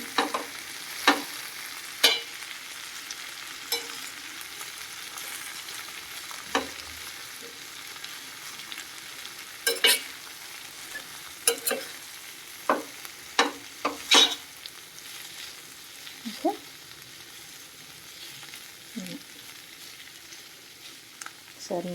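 Coriander leaves sizzle softly in a pan for a coriander and mint chutney while a utensil stirs them, sharp scrapes and clinks punctuating the quiet frying at irregular intervals.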